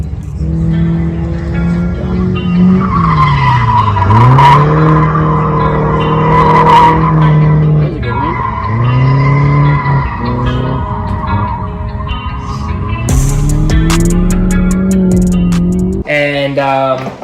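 Tires squeal and skid loudly as an automatic car drifts, in long wavering screeches with rising and falling pitch over the engine. Sharp clicks and a burst of noise follow near the end.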